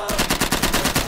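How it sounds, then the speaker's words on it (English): Rapid automatic gunfire in the first-person shooter Insurgency, a fast, evenly spaced burst of about a dozen loud shots lasting around a second, close and dominant with no talk over it. "this building is under fire"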